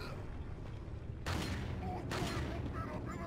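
Gunfire in the video game Resident Evil 4, two loud broadband blasts about a second apart, each ringing out briefly over a continuous low game rumble.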